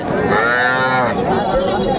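A cow moos loudly and close by at a cattle market in Aftabganj, Dinajpur, one long drawn-out low call over a busy outdoor background.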